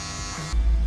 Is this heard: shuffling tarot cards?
no